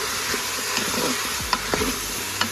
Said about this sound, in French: Voilà la courge qui a été mise dans la cuve. Je vais fouiller tout ça.